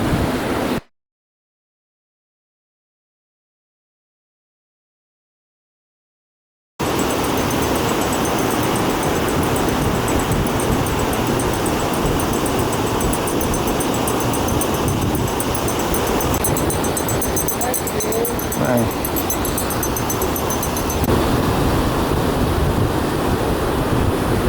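Small surf waves wash onto a dark sand beach at San Juan, Philippines, in a loud continuous roar with wind buffeting the microphone, after a brief stretch of silence at the start.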